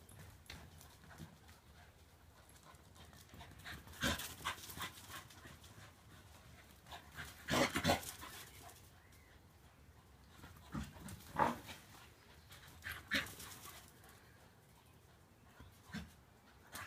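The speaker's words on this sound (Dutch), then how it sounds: "Wat loop je te hijgen, schiet?" A dog pants softly indoors in quick breathy bursts, with occasional louder snuffles and clicking footsteps scattered through an otherwise quiet room.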